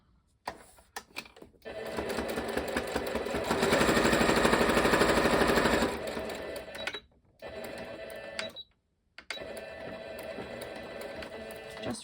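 A sewing machine stitches a scrappy fabric needle pouch, reinforcing the seams: a long steady mechanical whir runs for several seconds, then short stop-start bursts of stitching follow, close and alone.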